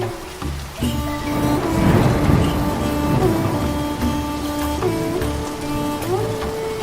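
Heavy rain pouring down in a village, a constant wash of drops with a louder swell near the start, heard alongside steady tonal background noise.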